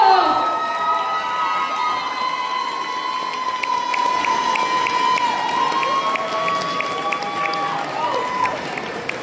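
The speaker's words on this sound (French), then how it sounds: "Venez, on l'applaudit très fort." Crowd at a cosplay contest award ceremony cheers and claps for a contestant, loud and sustained, with children shouting and a voice calling out over the noise.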